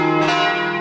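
Church bells ring out in a small eastern Quebec town, a single sustained, resonant peal with rich ringing overtones, loud and alone.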